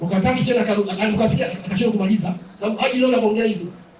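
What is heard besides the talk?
No everyday noises stand out.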